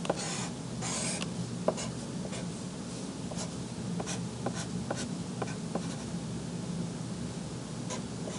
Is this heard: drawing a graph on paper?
yes